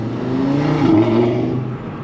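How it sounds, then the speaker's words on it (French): Audi RS3 8V1 five-cylinder engine with RS exhaust: a close, loud, throaty rev that rises and eases back over about two seconds, heard alone. "Ça laisse vraiment se libérer le son du 5 cylindres"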